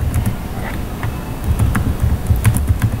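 Someone types on a computer keyboard at a steady pace, giving soft, quick key taps over a low background hum.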